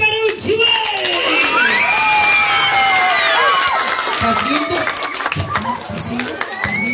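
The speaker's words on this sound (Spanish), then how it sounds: "Un fuerte aplauso para un chuey." A live comedy show audience in Lima, Peru, cheers, whoops and whistles loudly and steadily, then breaks into bursts of clapping toward the end, with a voice talking over the crowd noise.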